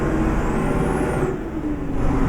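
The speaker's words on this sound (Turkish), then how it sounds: "Yani aracın sesi falan efsane arkadaşlar." A Volkswagen truck engine in Euro Truck Simulator 2, driven through North Macedonia, giving a continuous close diesel rumble with a brief high whistling tone rising and fading over it.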